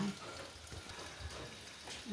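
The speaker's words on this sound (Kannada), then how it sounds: "ಒಂಚೂರು ಮಿಕ್ಸಿ ತೊಳೆದ ನೀರು ಹಾಕೊಂಬ" Water used to rinse a mixer jar is poured into a pan of pathrode gravy made from colocasia leaves, producing a steady close splashing wash that runs the whole time without a pause.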